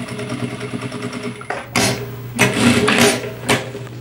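A sewing machine stitches a fabric bag lining with a close, mechanical whirring hum, then bursts of louder, heavier running with short pauses between them.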